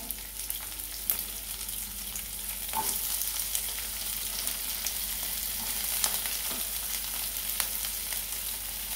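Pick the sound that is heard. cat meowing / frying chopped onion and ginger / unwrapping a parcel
frying chopped onion and ginger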